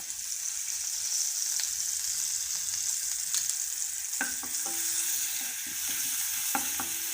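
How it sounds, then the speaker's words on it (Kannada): Curry leaves and mustard seeds crackle in hot oil for a tempering, making a steady, close sizzle for a raw mango chutney. Faint scrapes and clinks of a spoon join in toward the end. "ಒಗ್ಗರಣೆ ಕರಿಬೇವು ಹಾಕಬೇಕು"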